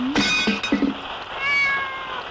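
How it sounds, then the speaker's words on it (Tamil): A cat meows in a 1991 Tamil film scene, with a couple of short, harsh mews close together followed by a longer, drawn-out meow, loud and near with no talk over it. "இந்த பூனை வேற பெருந்தொல்ல"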